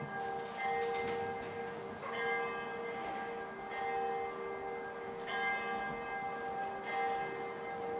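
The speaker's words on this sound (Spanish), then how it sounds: "acá oímos, para empezar, las campanas que llaman a la hora" Church bells ring out at midnight at a Carthusian monastery in the Dauphiné Alps of south-eastern France. Struck tones overlap steadily, with several fresh strikes across a sustained, resonant hum, at moderate distance and with no voices.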